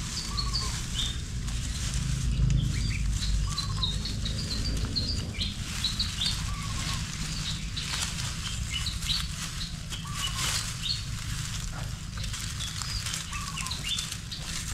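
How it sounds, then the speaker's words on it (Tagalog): Small birds chirp and call repeatedly among the branches of a pine bonsai in a garden, short bright tweets recurring every few seconds over a soft background rustle, with fluttering nearby. "may ibon."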